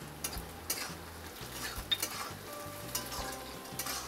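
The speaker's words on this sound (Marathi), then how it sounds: "तर आपण हा कांदा ना चांगला भाजून घेऊया।" Sliced onions and green chillies fry in a pan with a soft, continuous sizzle, broken by repeated scraping and tapping from a spatula as they are stirred.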